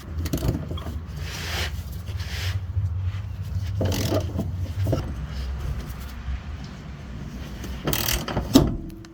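A ratchet unbolting parts on a Lexus drift build car, with intermittent clicking and scraping bursts over a steady low background rumble, close by.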